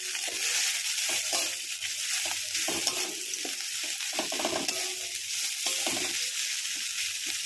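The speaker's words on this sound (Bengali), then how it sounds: "এটাকে একটু লাল লাল করে ভেজে নিই।" Ginger-garlic paste frying in hot oil in a wok, with a steady close sizzle broken by repeated scraping stirs of a spatula throughout.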